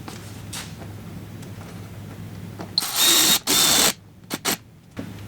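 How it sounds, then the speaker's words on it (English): Power drill driving a screw through the liner into a rear mud flap insert on a 2022 Honda Civic sedan, a short loud whirring burst in two close pulses followed by brief clicks, close by with no talking. "we're going to screw that into our insert"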